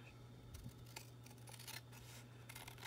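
Scissors snip through paper for a handmade journal pocket, a quick series of faint, close crisp cuts over a low steady hum, with no speech.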